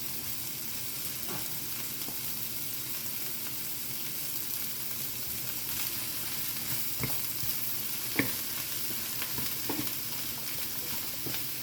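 Chicken, mushrooms and vegetables stir-frying on high heat on a flame thrower grill give a steady broadband sizzle throughout, with scattered sharper crackles and pops rising above the hiss.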